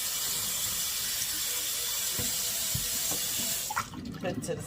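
Steady running water from a kitchen tap pours continuously while a fish is rinsed, ending with a few splashes and clatters near the close.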